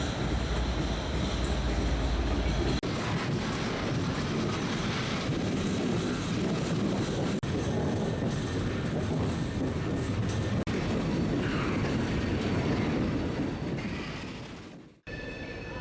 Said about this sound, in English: every day, several long freight trains pass this town between rivers and mountains